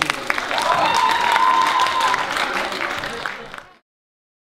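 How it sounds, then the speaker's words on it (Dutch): A school audience at a Markland College music showcase claps and cheers loudly for student performers, a dense burst with some voices and a whistle, fading out after about three and a half seconds. "Geef ze een groot applaus."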